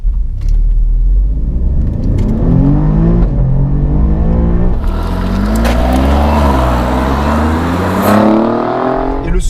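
Inside a 510 hp Alfa Romeo Giulia QV under hard acceleration, the engine note climbs through the revs with a muffled, rumbling growl, dips briefly at a shift and rises again, loud and continuous throughout.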